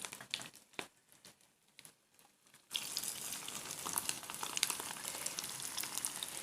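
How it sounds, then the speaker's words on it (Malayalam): Egg koftas dropped into hot oil start a sudden loud, steady sizzle and crackle after a few quiet clicks and faint handling noises. "കോഫ്ത എല്ലാം ചൂടായ എണ്ണയിലേക്ക് ഇടുക."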